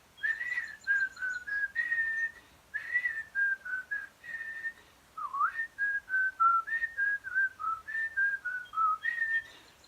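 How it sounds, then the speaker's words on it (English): A person whistles a melody alone, clear pitched phrases rising and falling with brief pauses between them. "I'm going to whistle a little song"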